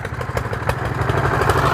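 A tractor engine runs steadily with a low, throbbing mechanical drone while hauling a trolley of concrete unloaded from a mixer machine during roadside shoulder construction work, loud and close with no talk.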